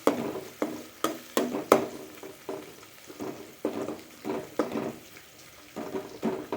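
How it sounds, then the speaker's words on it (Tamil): Turmeric and chili powder frying in oil for a tomato kurma, with a spoon stirring and scraping the pan in irregular knocks and clinks over a soft sizzle, close up. "இதை நல்லா கொஞ்சம் ஆயிலே"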